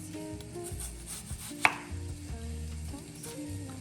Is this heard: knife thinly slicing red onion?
yes